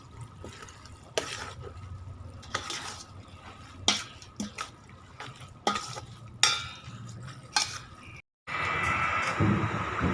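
Blanched glass noodles being stirred into tom yum broth, with wet sloshing and scraping strokes at irregular intervals and a soft bubbling bed, close by, ending in louder continuous splashing.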